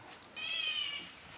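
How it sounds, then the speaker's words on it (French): A Réunion bulbul (Merle-Pays) call played back from a recording, one short faint high, whining note with a tone much like a cat's meow. "ça c'est le cri du Merle-Pays"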